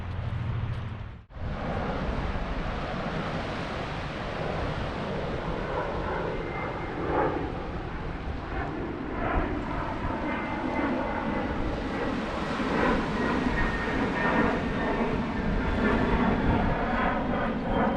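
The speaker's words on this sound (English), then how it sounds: "that looks like a private jet. Just flown out of that house over there." A private jet climbs out and flies overhead at a seaside fishing spot in Wales, a steady loud engine roar that swells toward the end, with no one talking.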